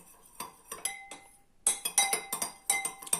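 A spoon clinks repeatedly against a glass while stirring kissel, in quick, irregular taps, with a short pause before a faster run of bright chimes.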